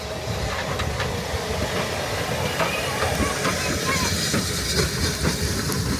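Tasmanian 2050 class diesel locomotive, built in 1978, running around its train at Coles Beach, a steady rumble with hiss and faint rail clicks, heard at moderate distance.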